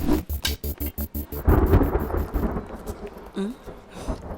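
A thunderstorm scene in a Telugu feature film: a rumble of thunder over falling rain, with a rapid series of strong pulses at first that gives way to a steady wash of rain.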